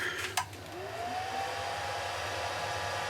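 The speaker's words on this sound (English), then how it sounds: "Give the lathe some power." A woodturning lathe holding a bowl in tall chuck grippers switches on and runs, a steady close whirring drone with a rising tone as it spins up after a brief knock.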